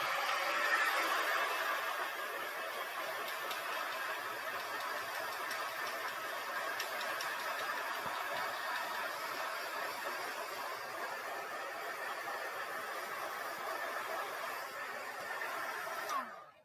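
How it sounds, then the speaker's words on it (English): A heat gun drying ink on cardstock blows with a steady, loud whooshing hiss and fan whir, running continuously for a long stretch before cutting off abruptly. "I am going to dry this with my heat gun just real quick here"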